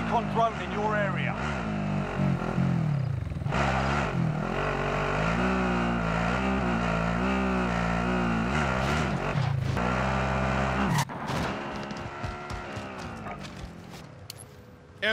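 A vehicle in Call of Duty: Warzone drives with a loud, steady engine drone that shifts pitch as it accelerates and revs, with game effects and talk over it near the end.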